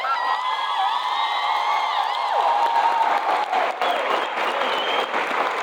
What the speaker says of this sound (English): Clap her in.